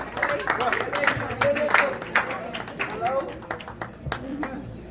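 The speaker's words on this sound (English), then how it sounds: "Let's clap it up." Audience claps at a boxing weigh-in held at Rosecroft Raceway, a steady patter of close hand claps mixed with crowd voices and talk over it for the full few seconds.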